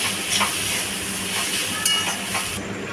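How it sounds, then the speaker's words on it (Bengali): Banana flower frying with spices in a pan while being stirred, a steady bright sizzle with soft scraping stirs, close and continuous, no voices. "মোচাটাকে ভালোভাবে নাড়াচাড়া করে ভেজে নেব"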